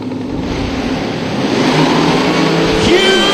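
Mustang and Corvette drag cars launch at Atlanta Dragway in an NMCA LSX event, loud engines roaring and rising as they pull away, with crowd and announcer noise in the background.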